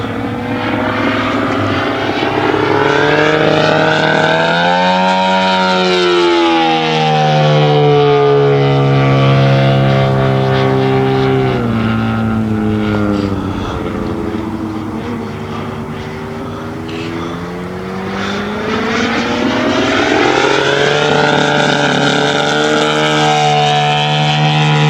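A giant-scale RC F8F Bearcat model plane flying a demo, its engine droning loud and continuous with strong harmonic whine that rises and falls as it passes and banks overhead.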